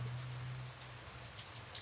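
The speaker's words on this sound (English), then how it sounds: "The rain pelted against car windshields gently, like snowflakes falling from the sky." Rain patters steadily and fairly softly as a continuous wash, with a low steady hum underneath that fades after the first moments.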